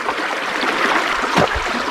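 River water flows steadily at a gold-prospecting spot, a continuous broadband wash with a brief splash or gurgle partway through, close and fairly loud, with no voices.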